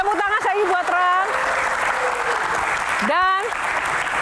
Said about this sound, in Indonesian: Tepuk tangan saya buat Ran.